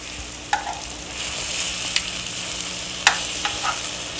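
Food sizzling in a frying pan with chopped bacon and vegetables, a steady close hiss broken by a few sharp clicks and stirring clatters, no talk.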